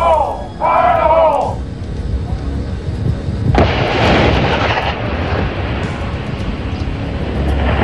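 Marines set off explosive charges in a test, a deep heavy blast that booms and rumbles on for several seconds after shouted warnings.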